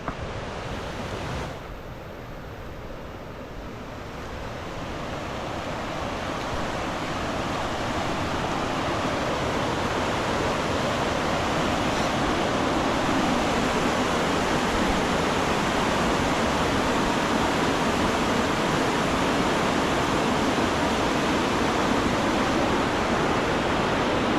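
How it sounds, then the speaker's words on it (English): A river rushes steadily close by, a dense broadband roar that swells over the first few seconds and then holds constant, with no voices. "I'm gonna take you down to the river, and I don't know if you can hear it, but she's a-flowing."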